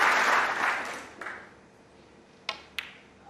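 A snooker crowd at a championship final claps, loud applause at the start fading out, followed by a couple of sharp clicks of balls on the table.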